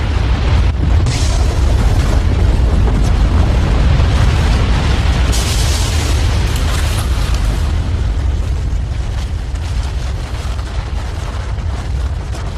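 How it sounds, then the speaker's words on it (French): A volcanic eruption's lateral blast gives a continuous, heavy roaring rumble that fills the whole stretch with dense low-end noise and no pauses. "L'explosion traverse le paysage à près de 800 km/h"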